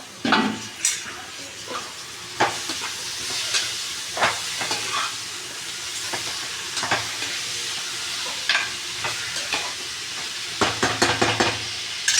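Chicken and onions frying together in a pan, with a steady sizzle broken by repeated scrapes and clatters of stirring against the pan, close and fairly loud.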